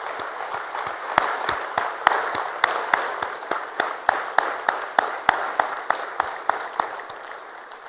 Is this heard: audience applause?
yes